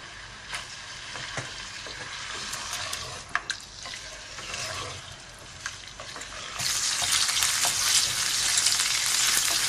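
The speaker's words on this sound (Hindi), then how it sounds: "जब ये घी गरम हो गया है, अब इसमें हम ये चिकन डाल रहे हैं।" Chicken pieces frying in hot ghee for a karahi, a steady close sizzle with occasional clicks and stirring, swelling into a louder, denser hiss near the end.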